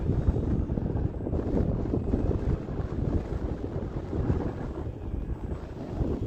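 Steady, blustery wind buffeting the microphone, a continuous low rumble that swells and eases without pause and with no other clear sounds.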